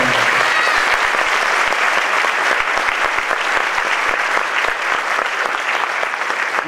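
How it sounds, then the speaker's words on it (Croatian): Sustained, dense applause from a crowd at a public gathering, loud and continuous with crisp individual claps throughout and no pause. "ja veliki aplauz za njih."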